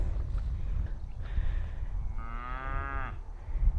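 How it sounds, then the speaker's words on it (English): A cow moos once in a park, a single drawn-out lowing call about a second long, fairly close over a rumbling wind and outdoor background. "Cows are very sweet creatures."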